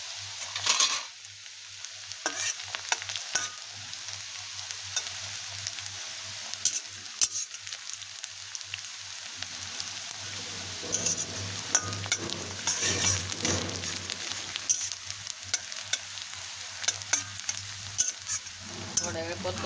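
Cumin seeds sautéing in a pan for a vegetable sandwich filling, a steady close sizzle with intermittent stirring scrapes and a faint constant hum underneath, no talking.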